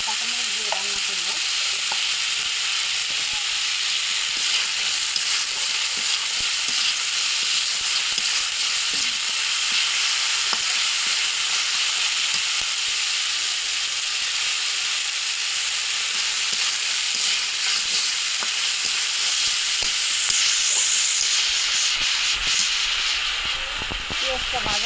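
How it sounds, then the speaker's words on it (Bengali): Onions and spices fry in a pan, giving a loud, continuous hissing sizzle that holds steady for the whole stretch, with speech occasionally heard beneath it. "পেঁয়াজটা ভাজা হয়ে গেছে,"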